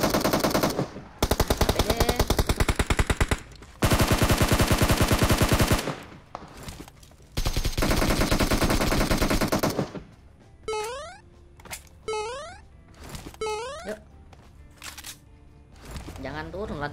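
Rapid automatic gunfire in a mobile shooter game, long sustained bursts of dense, loud shots separated by short pauses, then a stretch of clipped single shots and sharp chirping effects toward the end.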